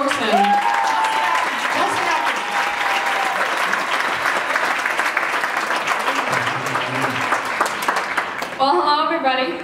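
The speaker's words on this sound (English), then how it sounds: "let's give her a really warm round of applause here, folks" A warm round of applause from a crowd at a comedy show, dense and steady for most of the clip before fading near the end as a voice begins to speak.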